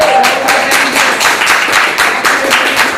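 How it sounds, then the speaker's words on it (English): Applause from a room full of people: dense, sustained clapping with an uneven rhythm, moderately loud, lasting a few seconds with no voices over it. "you hear the applause coming out over here from the room"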